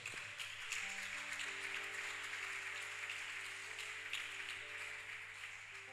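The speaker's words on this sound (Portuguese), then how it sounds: "Dá uma salva de palmas em nome do Senhor." A church congregation applauds in the name of the Lord, with steady, sustained clapping from many hands over a held keyboard chord, moderately faint and continuous throughout.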